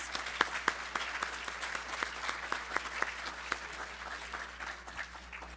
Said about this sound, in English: Let's give another round of applause for all of our award winners.